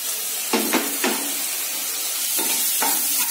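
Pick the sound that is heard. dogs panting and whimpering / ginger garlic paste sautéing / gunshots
ginger garlic paste sautéing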